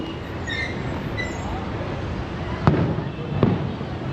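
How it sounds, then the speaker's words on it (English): Fireworks going off right outside a hotel in Mumbai during Diwali, two sharp bangs standing out over a dense, noisy street backdrop of crowd and traffic. "There's fireworks literally right outside our hotel right now"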